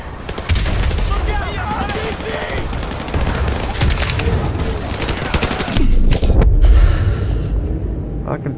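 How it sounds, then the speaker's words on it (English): Sustained automatic gunfire rattles nonstop in Call of Duty Modern Warfare Remastered, loud and dense with occasional heavier booms mixed in, continuing for several seconds without a pause. "Suppressing fire."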